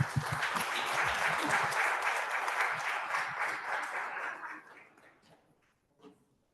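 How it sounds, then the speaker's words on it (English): Audience applauding working group members at a Plaistow neighbourhood event, steady clapping from a modest crowd that tapers and fades out, with a brief voice at the end. "let's give him a little round of applause"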